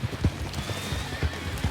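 Rapid clip-clop of horse hooves in the Western game Red Dead, a quick irregular run of hoof thuds heard fairly close with no talk.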